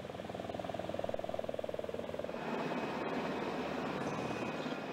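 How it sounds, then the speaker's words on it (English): A civilianized Black Hawk helicopter carrying a long-line sling flies over the damaged spillway area of Oroville Reservoir. Its rotor thumps rapidly and steadily, then gives way to a broad, continuous engine roar at moderate distance. "civilianized Black Hawk helicopters on a long line sling, dropping rocks into the damaged area"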